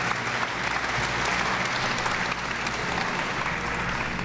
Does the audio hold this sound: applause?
yes